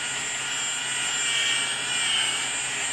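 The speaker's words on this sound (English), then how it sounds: "start sanding. Get all the yellow stuff out" A drill spins 500-grit sandpaper against a yellowed plastic headlight lens, making a steady, loud whirring hiss with a high whine that holds throughout without a break.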